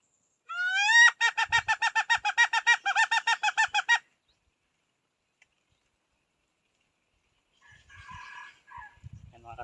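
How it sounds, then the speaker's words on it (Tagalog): A red junglefowl crows once, loud and close, a rapid pulsing call lasting a few seconds, followed by silence and faint distant sounds. "narinig yung tilaok ng labuyo"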